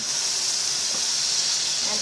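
Butter sizzles in a hot pan, a steady close hiss with no breaks across the short moment.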